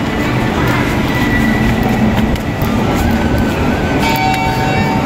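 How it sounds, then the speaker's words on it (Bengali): Inside an underground metro station at Sealdah, a loud, steady rumble of rail traffic and machinery fills the platform, with faint clicks and a high tonal whine near the end. "তো এটা মেট্রোর ভিতরে, মানে স্টেশনের ভিতরে।"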